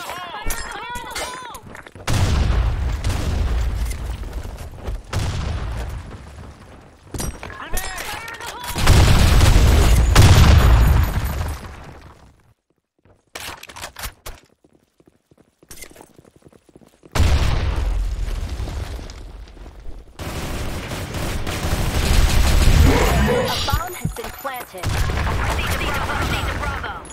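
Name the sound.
grenade explosions and gunfire in the Blackshot video game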